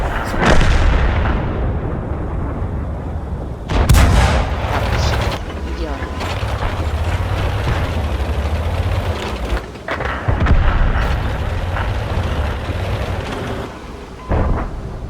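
Artillery fire in the World of Tanks video game booms out in heavy low blasts, loudest near the start and around four seconds, over a steady rumble of battle noise, with someone talking throughout.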